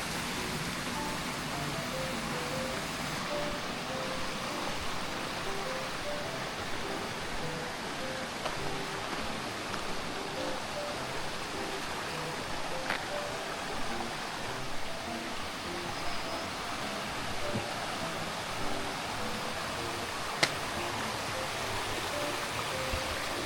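A mountain valley stream at Sanasa Valley in Yangpyeong, Gyeonggi-do rushes over rocks in a steady, broadband flow, constant and fairly close, with no voices.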